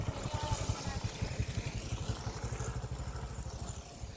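A motorcycle putters along a rough, unpaved rural provincial road, its steady rhythmic engine pulses faint and distant, slowly fading slightly as it passes.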